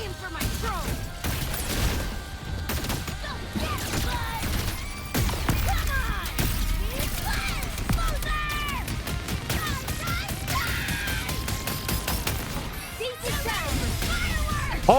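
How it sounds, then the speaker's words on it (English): Dense volleys of fireworks-like explosions burst in a video game, crackling and booming in rapid overlapping pops with whistling streaks, continuous and fairly loud across the whole stretch. "Holy shit, that is a lot of fireworks."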